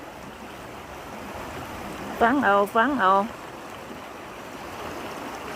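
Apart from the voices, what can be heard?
waterfall stream water flowing behind the house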